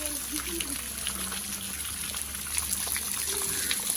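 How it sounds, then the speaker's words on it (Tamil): Water from a motor pump gushes steadily into a garden channel in a Jaffna home garden, a continuous broadband wash running throughout with voices talking and calling over it. "இனிமேல் தண்ணி வருது"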